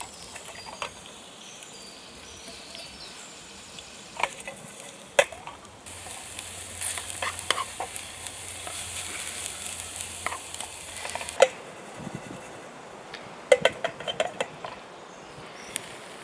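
Food frying in a skillet over a camp stove outdoors, a steady soft sizzle with occasional scrapes and clicks of stirring, growing denser midway before easing off, with no talk.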